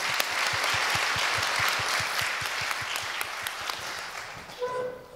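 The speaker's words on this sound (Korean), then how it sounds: "박수 한번 보내드리는 게 어떨까요?" Steady applause from a church congregation at a summer retreat, many hands clapping together, fading near the end.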